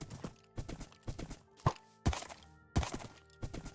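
A white horse's hooves clip-clop in a video game, a series of sharp knocking strikes at an irregular walking rhythm, fairly close and loud over a faint background.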